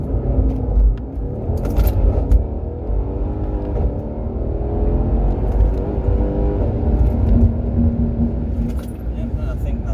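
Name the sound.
Mercedes C63 AMG W205 accelerating from standing start, modified exhaust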